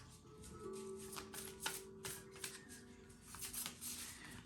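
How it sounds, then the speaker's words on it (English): Large, oversized tarot cards are shuffled in a quiet room, giving soft repeated riffling rustles and slaps over a faint background hum. "These cards are massive. They're quite tough to shuffle sometimes."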